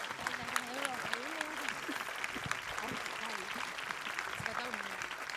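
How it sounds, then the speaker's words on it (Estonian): Audience applause at a school spring concert, a steady broadband wash of clapping throughout, with voices and singing-like pitched tones layered over it. "Nii et palun üks suur aplaus talle."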